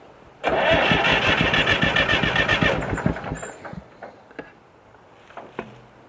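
A tractor engine cranks and runs roughly for a couple of seconds, then dies abruptly, leaving faint clunks and rattles in the quiet afterward.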